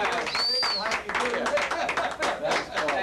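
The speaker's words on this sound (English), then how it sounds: "Give Joe a round of applause." An audience at a magic show claps in a scattered burst of applause that swells and fades over a few seconds, with a voice talking over it.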